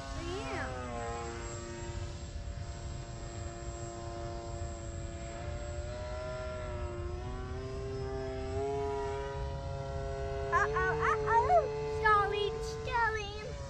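An XF1 Pogo prototype VTOL model aircraft in forward flight, a steady propeller drone holding a constant pitch for over ten seconds, with excited voices breaking in near the end.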